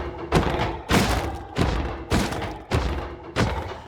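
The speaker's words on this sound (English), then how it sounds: "critical hit sounds are now a feature in Aspects" A rapid series of six heavy thuds of critical hits on a mob in Minecraft Bedrock, evenly spaced and punchy, each with a crisp attack over constant background noise.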